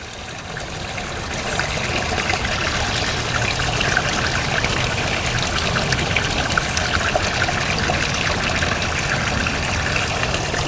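Water pours and trickles steadily into a pond as a fish is released, a continuous, fairly loud rushing wash with no voices over it.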